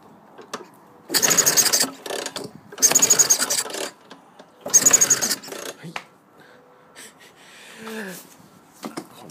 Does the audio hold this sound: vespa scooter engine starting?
yes